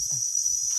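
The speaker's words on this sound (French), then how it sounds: "Des grillons, ou j'en ai aucune idée. En tout cas, ils en font un bruit." Crickets chirp in the Colombian jungle at night near a hotel in Salento, a loud, steady high-pitched trill heard up close through the whole short moment, with faint low rustling beneath.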